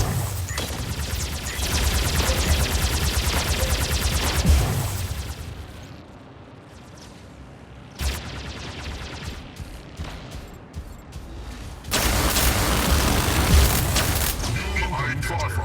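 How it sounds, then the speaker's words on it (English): Incoming artillery fire and explosions in a shooter video game, dense bursts of gunfire and booms in loud stretches separated by a quieter lull, with game voice callouts mixed in. "Incoming fire."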